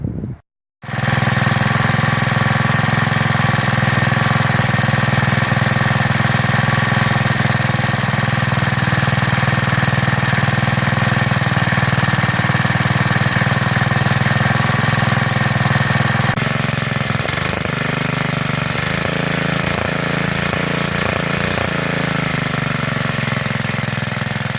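A mid-1950s Wheel Horse RJ with a Clinton B1290 4 HP engine starts after a brief pull and settles into a loud, steady idle with a rapid, even knocking putter that holds for over twenty seconds, close up and alone.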